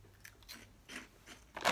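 Someone bites into and chews a crunchy vegan snack, giving several short crisp crunches spread across the moment, with the loudest bite at the end, close up and with no talking.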